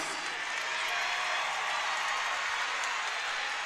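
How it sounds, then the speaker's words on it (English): A basketball arena crowd cheers and roars steadily in support of the Alabama State Hornets during a men's game against Alabama A&M, a loud, continuous wash of voices and applause with no pause. "Crowd coming alive in support of their Alabama State Hornets"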